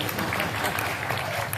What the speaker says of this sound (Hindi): तो पुरुष के सम्मान में वो जोरदार ताली बजाओ जरा।